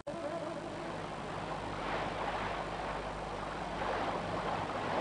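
A small boat gliding across water in a cartoon, a steady motor hum with washing, rushing water, fairly faint and continuous without talk.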